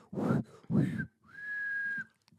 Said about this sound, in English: I whistled. I whistled. Do it again.